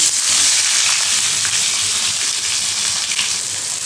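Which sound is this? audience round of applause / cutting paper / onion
onion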